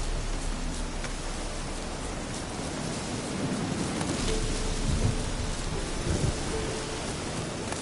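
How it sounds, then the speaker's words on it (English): A heavy thunderstorm in the Witcher 3 video game, with steady dense rain hiss and low rumbling thunder rolling throughout, loud and continuous with no speech. "storm, damn it."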